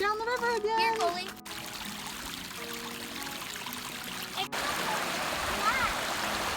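Rapids of the Hoh River in Washington rush and splash steadily throughout, with a voice chattering over the water near the start.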